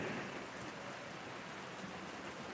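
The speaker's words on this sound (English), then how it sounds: "we are having a rainy storm" Steady rain from a storm falls as a dense, even hiss with no distinct drops standing out, continuous and moderately faint throughout, with no voices.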